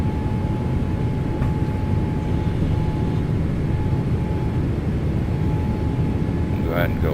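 Airliner in Microsoft Flight Simulator 2024 climbing after takeoff with gear retracting, a steady loud engine roar and rumble with a thin constant whine, unbroken for the whole stretch.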